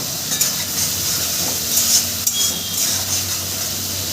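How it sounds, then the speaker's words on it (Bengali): Spice paste sautéing in oil with a splash of water for a spicy okra curry, giving a steady soft sizzle and hiss with a few light stirring scrapes, heard close and alone. "এটা দিয়ে আমি মশলাটাকে সুন্দর করে কষিয়ে নেব"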